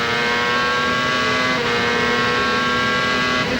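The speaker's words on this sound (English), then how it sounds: "There you can see the gear changing required on this track." A 2000 CART race car at Chicago Motor Speedway roars loudly and steadily with a sustained high engine tone, a brief pitch shift around the middle marking a gear change.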